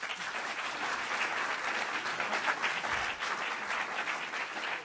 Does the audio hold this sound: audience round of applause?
yes